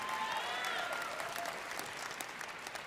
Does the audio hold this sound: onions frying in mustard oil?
no